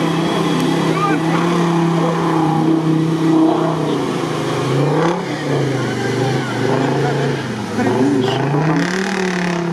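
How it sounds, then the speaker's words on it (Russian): An off-road truck on 36.6-inch wheels with military axles and full locking differentials revs hard at an off-road trophy race, its engine pitch rising and dipping in loud sustained surges close by, with voices faintly underneath. "Красиво работает мотор."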